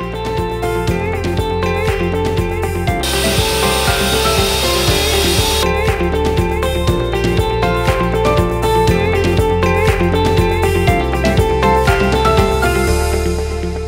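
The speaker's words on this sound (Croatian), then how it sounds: "Daske iskrojimo na stolnom cirkularu na zadane mjere." A table circular saw cuts wooden boards to size, giving a loud, continuous mechanical whine with a rhythmic rattling pulse and a brief bright burst of cutting noise partway through, with no voices.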